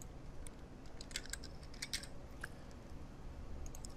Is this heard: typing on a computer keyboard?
yes